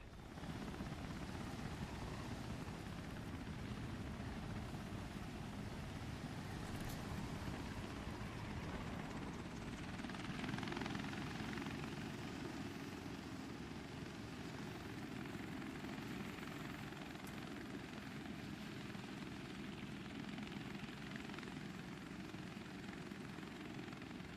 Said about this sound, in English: How many people go in this helicopter?